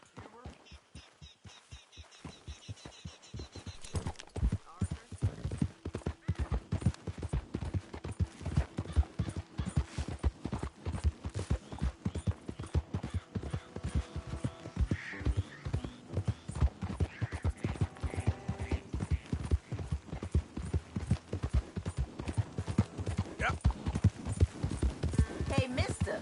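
Steady horse hooves clip-clop through a video game's soundscape, a fast, regular trotting rhythm that builds after a quiet start and runs loud and continuous alongside game music and spoken dialogue.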